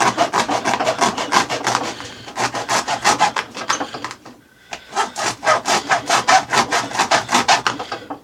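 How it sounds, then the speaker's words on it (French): A blade saws back and forth through the foam of a shoe in rapid rhythmic strokes, loud and close, pausing briefly midway before the strokes resume at the same quick pace. "Donc là on découpe la mousse."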